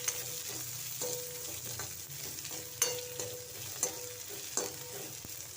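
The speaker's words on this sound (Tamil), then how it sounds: "வெங்காயத்தை போட்டு நல்லா ப்ரௌன் கலர் ஆற வரையும் நல்லா வறு வணக்கிடுவோம்" Onions frying in a pan until browned for a prawn curry: a steady close sizzle with occasional sharper scrapes and taps from stirring, no talking.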